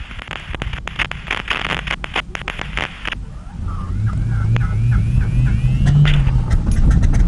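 A Cessna 195 radial aircraft engine starting: clicking, crackling bursts as the propeller turns over, then a steady deep rumble that builds and holds loud and close, with the sputter giving way to a running drone.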